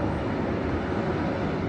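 An Amtrak Capital Corridor passenger train departs Emeryville station, California, rolling along with a steady, low rumbling roar, continuous and moderately loud, with no voices.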